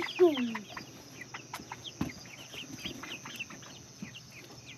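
Laying hens released into a new henhouse, a busy flock clucking and chattering in short overlapping calls, with one louder squawk near the start and a faint voice in the background.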